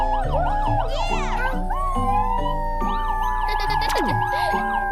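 A talking toy police car built from Lego sounds its siren, a loud, wavering, rising-and-falling electronic wail that goes on throughout, layered over bright cartoon-like music.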